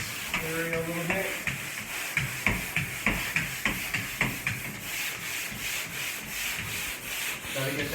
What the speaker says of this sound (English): Gotta get that residue, sand that residue off.